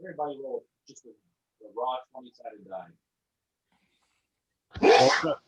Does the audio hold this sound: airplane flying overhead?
no